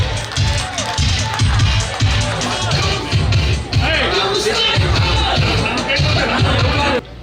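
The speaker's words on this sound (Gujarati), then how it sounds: "એકવાર જોરદાર તાળી વગાડી લેશું." An audience at a batch reunion event in Bhuj applauds loudly, with dense rapid clapping and crowd hubbub that keeps going for several seconds before cutting off abruptly.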